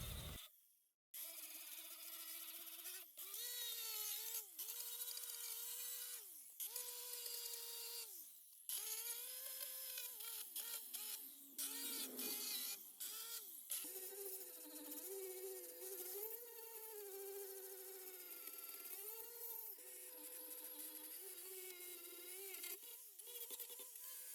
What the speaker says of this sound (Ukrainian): Як бачите, насадка ця шліфує дуже добре, гарно знімає шар фарби